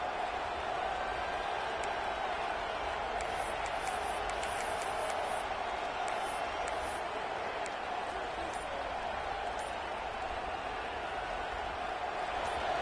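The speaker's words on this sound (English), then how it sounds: "This crowd knows this defense needs them right now." Dense, steady roar of a stadium crowd at an Ohio State football game, loud and continuous throughout with no distinct voices standing out.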